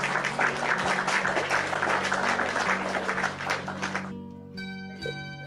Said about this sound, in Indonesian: Tepuk tangan buat Yufing Borneo yang cantik dan manis.